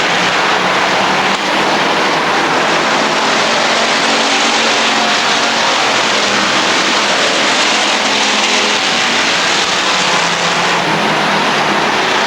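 Race cars roar loudly and continuously around the oval at Rockford Speedway, a dense, steady wash of engine noise with no pauses across the whole stretch.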